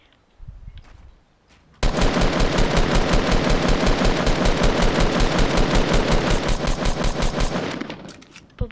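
Automatic weapon fire in the video game Fortnite, a few scattered shots and then a long, loud, rapid burst lasting several seconds before cutting off.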